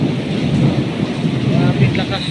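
Heavy rain during a thunderstorm in Jeddah, a loud continuous roar of downpour with low rumbling underneath and a few faint higher tones drifting in near the end.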